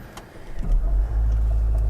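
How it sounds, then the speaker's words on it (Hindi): A Honda Vezel e:HEV RV5 hybrid starting up: a close, steady low hum and rumble sets in after a short stir of clicks and settles into an even drone with no engine revving. "तो जी गाड़ी स्टार्ट हो गई है"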